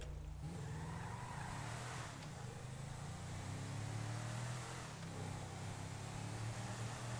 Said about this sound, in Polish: Posłuchajmy, jak ten samochód śmiga,